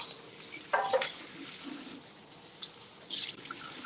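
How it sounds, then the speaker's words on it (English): Water running from a kitchen faucet into the sink, a steady hiss that thins out partway through, with a few light clinks and splashes afterward. "I wash my sink."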